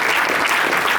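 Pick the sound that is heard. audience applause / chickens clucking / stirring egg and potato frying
audience applause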